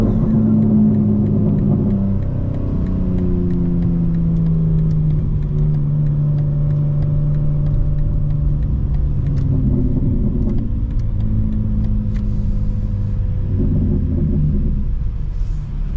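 A 2025 BMW M4 Competition xDrive drives at night, its engine rumbling in a steady low drone from inside the car, with rising and falling tones as it accelerates and shifts gears.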